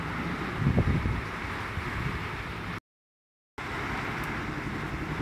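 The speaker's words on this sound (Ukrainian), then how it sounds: "такий вітер, листя оббиває, цвіт оббиває" Steady roar of strong wind buffeting the microphone outdoors, with a gustier burst near the start; no voices.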